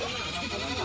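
A goat bleats at a busy livestock market in Charghat Nandangachhi where goats and young castrated kids are sold, loud and close within a dense wash of crowd noise and chatter.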